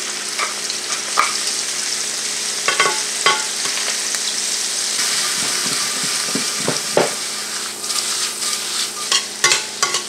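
Shrimp fry in hot oil with garlic and pepper for a Creole dish, giving a steady, bright sizzle broken by scattered clicks and scrapes from stirring.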